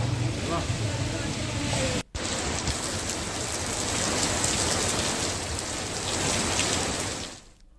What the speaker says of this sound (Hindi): शाहजहांपुर में आज हुई झमाझम बारिश ने जनजीवन को अस्त व्यस्त कर दिया।